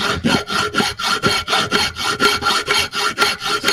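A hand file works metal held in a bench vise, with rapid rhythmic rasping strokes, roughly four per second, close, loud and steady without pause.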